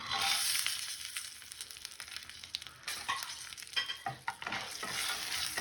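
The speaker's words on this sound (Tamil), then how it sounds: "எல்லாத்தையும் போட்டு ரோஸ்ட் பண்ணிக்கோங்க" Dried red chilies, roasted peanuts and other ingredients roast in a pan for green poha, a low sizzle under frequent clattering stirs and scrapes of a spoon against the pan, with no one speaking.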